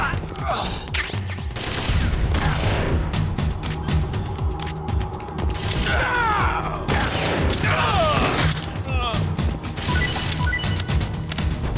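Gunfire in Metal Gear Solid: The Twin Snakes, loud and chaotic: rapid shots and crashing impacts that come and go in waves, with game voices heard in the middle.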